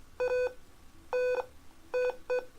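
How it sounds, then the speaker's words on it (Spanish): Four electronic buzzer beeps from a clinical thermometer circuit signalling a temperature above 38 degrees, sharp tonal bursts in an uneven rhythm, clear and close with no talk. "Después de los 38 grados se enciende el LED rojo y el zumbador se activa."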